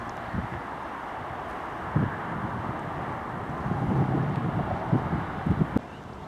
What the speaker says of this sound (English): Quite blowy today, so I better get the old wind canceller out.